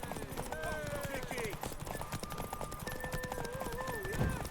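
Horse hooves clip-clopping at a gallop with whinnying neighs in the video game The Witcher 3, steady and close, with voices talking over the hoofbeats.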